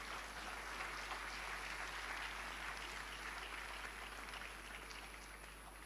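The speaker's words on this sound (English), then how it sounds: "A round of applause." Sustained applause from a large audience at a live celebration of the Ghana Cedi's 60th anniversary in Accra, a steady dense wash of clapping lasting several seconds and fading slightly toward the end.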